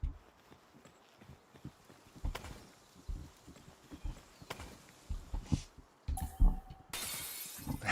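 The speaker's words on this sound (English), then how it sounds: "The broken glass sound." Glass shattering in the game Palworld, a sharp bright crash heard among quieter in-game footsteps and clatter, with a second burst of breaking glass near the end.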